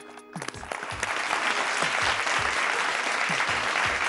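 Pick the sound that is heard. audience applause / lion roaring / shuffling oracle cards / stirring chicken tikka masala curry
audience applause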